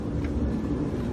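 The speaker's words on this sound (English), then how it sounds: "Sorry about the noise from the airplane." An airplane passes overhead near Orlando airport, a steady broad low rumble that holds at even loudness throughout, fairly loud and close, with no talk.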